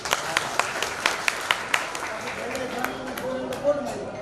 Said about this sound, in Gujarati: આપણે એનું તાળીઓથી સ્વાગત કરીએ.